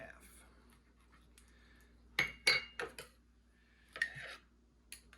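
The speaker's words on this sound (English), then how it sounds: "Stir that up good." Sourdough starter gets stirred in a bowl, a few sharp scrapes and clinks of a utensil against the bowl in a brief cluster, close and moderately loud against a quiet room, with a voice speaking in between.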